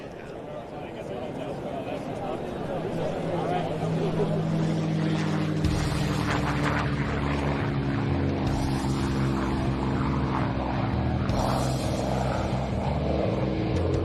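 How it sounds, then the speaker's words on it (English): A P-51 Mustang's Rolls-Royce Merlin V12 piston engine roars in a deep, steady drone that swells and holds loudly throughout, with a faint voice beneath it, at an air show. "That's the sound of the Rolls-Royce V12 Merlin engine,"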